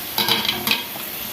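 Spinach pakoras frying in hot oil, a soft continuous sizzle with a few quick stirring scrapes from a utensil in the pan, close up.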